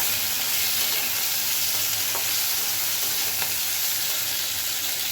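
Red lentils and pumpkin greens are stirred in a hot pan, a loud, dense sizzle running continuously with a couple of faint spoon clicks.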